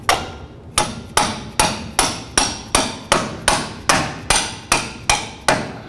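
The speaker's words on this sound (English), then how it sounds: "You might wanna give it a bonk there to get that in." A hammer taps a bolt into the front upper control arm of a 2007-2017 Jeep Wrangler, striking about a dozen sharp metallic blows at an even pace, close and loud.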